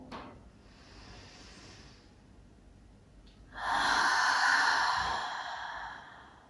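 Deep breath during a vinyasa yoga flow: a quiet drawn-in inhale, then a long, loud, breathy exhale that slowly fades, close up.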